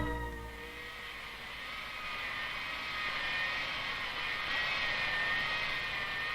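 A big jet near an airport roars in a steady, broad whine that swells slightly as it passes, heard from a moderate distance with no voices.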